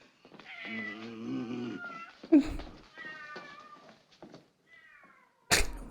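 A cat meows repeatedly in drawn-out, wailing cries, close by, with a couple of sharp thumps among them.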